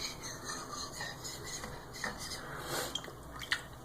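CPM M4 steel blade stroked across a sharpening stone under light pressure, a steady soft wet rasping and scraping that continues for several seconds, close and quiet with no talking.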